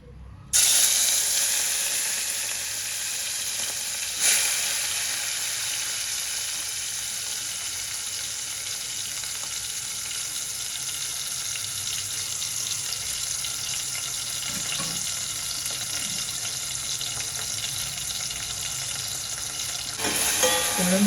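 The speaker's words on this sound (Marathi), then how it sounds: "आपण आता ही कोळंबी आपण जे मॅरिनेट केले ती थोडी आपण तेलावर परतून घेऊया" Marinated prawns (kolambi) sizzle in about three spoons of hot oil in a pan, a loud steady frying crackle that starts abruptly and runs on, with a few sharper stirring sputters along the way.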